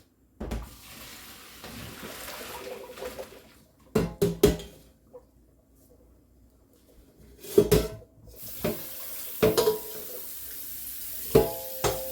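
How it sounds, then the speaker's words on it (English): Water runs from a tap in two long streams, with clinks of dishes and pans in between. "I'll run the water again in a second"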